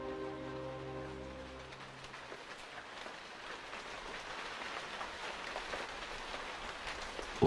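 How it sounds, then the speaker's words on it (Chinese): Steady rain falling, a dense even patter with scattered droplet ticks, moderately close and without voices, fading in after a short musical tone at the start. "天爷呀，别打雷，别下雨了"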